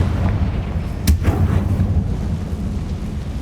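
Confringo fire spell cast in Hogwarts Legacy: a single sudden, deep blast with a short rumbling tail over a low, steady background hum.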